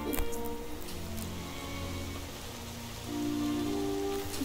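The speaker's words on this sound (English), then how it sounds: "It's raining already." Rain falling in the Roblox game Royale High, a steady hiss of rainfall on surfaces alongside sustained background game music tones, no voices.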